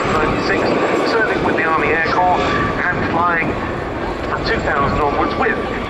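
Gazelle helicopter in a flying display at the RAF Cosford Airshow, a steady loud rotor and engine drone filling the whole stretch with a continuous broadband roar and faint crowd or commentary underneath.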